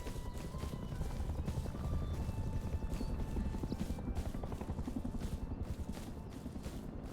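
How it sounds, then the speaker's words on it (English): Attack helicopters in the video game Rust give a continuous rhythmic rotor thumping, moderately loud and steady throughout, with faint higher tones over it. "I'm pretty sure I heard 2 attack helicopters."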